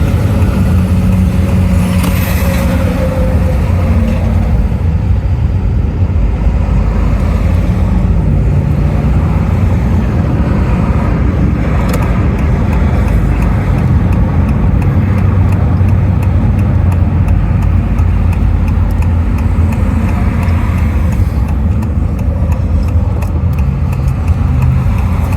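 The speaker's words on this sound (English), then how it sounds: "Now look at all this traffic." Heavy road traffic in Las Vegas, a continuous loud rumble of car engines idling and accelerating close by, with no speech.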